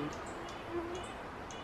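A soft, low owl hoot rises faintly over steady outdoor background noise, heard once in an otherwise quiet woodland setting.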